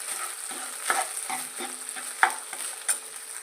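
Cooked rice being mashed and mixed by hand for curd rice, producing soft, squelchy stirring strokes repeated roughly every half second, close and fairly quiet with no voices.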